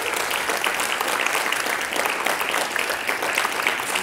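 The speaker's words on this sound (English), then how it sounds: "they deserve a round of applause" An audience breaks into sustained applause, a dense, even wash of many hands clapping at a steady loud level with no pause.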